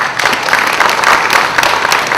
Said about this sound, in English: I want you to applaud this wonderful couple